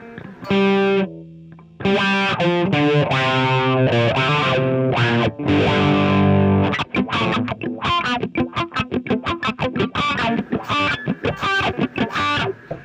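Distorted electric guitar through a Morley Wah Pro Series II pedal in its middle position, bright, open, raspy tone, sustained chords followed by a fast run of choppy rhythmic picking.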